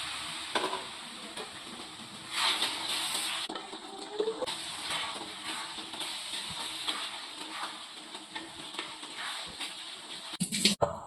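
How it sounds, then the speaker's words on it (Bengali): Madras-style chicken masala gravy with hot water added simmers and bubbles in a pan, a soft steady sizzle with occasional stirring and light clinks of a utensil against the pot. "আবার গ্রেভির জন্য গরম জল দিয়ে 2-1 মিনিট ফুটিয়ে নামিয়ে নিতে হবে।"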